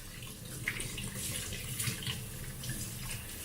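Water runs from a tap over raw lamb in a kitchen sink, a steady faint splashing stream with small irregular spatters throughout, no one speaking.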